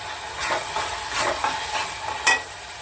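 Paneer and masala fry and sizzle in a pan, a steady hiss with faint stirring scrapes and one sharper clatter near the end, no talking.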